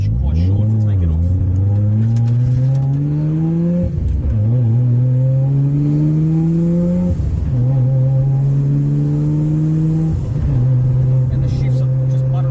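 Mazda RX-7 FD with a CD009 six-speed gearbox conversion accelerates hard through the gears, the rotary engine's tone rising steadily, then dipping sharply at each quick shift, loud and close throughout.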